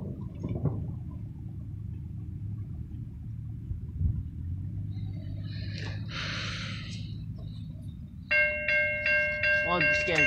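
An Amtrak train rumbles past nearby with a low steady roar, a hissing burst partway through, then a loud multi-tone horn blast near the end; brief human sounds occur early.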